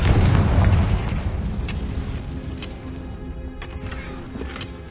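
A Confringo spell explodes in Hogwarts Legacy with a heavy booming blast at the start that rumbles and slowly decays, followed by faint scattered pops and crackles.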